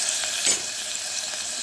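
Finely chopped green chili and ginger frying in a pan for methi pulav, a steady close sizzle with brief stirring scrapes.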